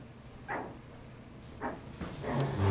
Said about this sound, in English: Oh, you're going to bark at Bella?